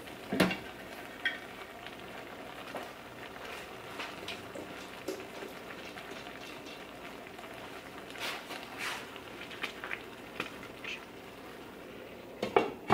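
Chicken and rice simmer in a pot over the lowest heat, giving a steady, soft bubbling sizzle with occasional light clinks and knocks of cookware.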